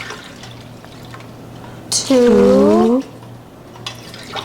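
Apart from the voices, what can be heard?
water being poured into a cooking pot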